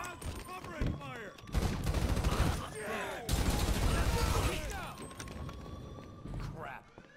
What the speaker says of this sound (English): Hey, covering fire!